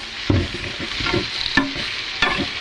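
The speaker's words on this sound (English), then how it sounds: "Now we're going to cook this for about five minutes with the onions" Onions and meat for goulash fry in a pot with a steady close sizzle, broken by a few sharp scraping knocks of stirring.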